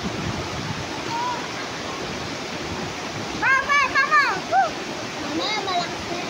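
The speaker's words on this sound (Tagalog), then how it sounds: "Anong alon? Walang alon. Agos lang." A summer swimming spot has a flowing water current with no waves, a steady rushing hiss throughout, while voices speak briefly over it midway.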